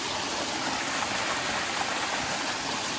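A forest waterfall pours continuously, a loud, dense hiss of falling water close by with no breaks or voices.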